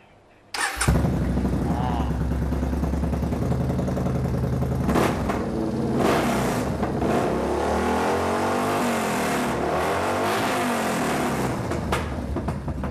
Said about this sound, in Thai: ตัวนี้นะฮะเป็นตัว Yamaha Bell R นะครับปี2016นะครับเครื่องยนต์เนี่ยความจุที่942 cc